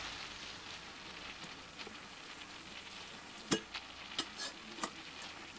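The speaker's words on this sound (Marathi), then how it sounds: "त्याच्यात आता गिलके धुवून चिरून घेतलेले होते ते टाकले. चांगले परतून घेते ते पण." Chopped ridge gourd sautéing with softened tomatoes in a pan: a steady, fairly faint frying hiss throughout, with a few sharp spatula scrapes and taps near the end.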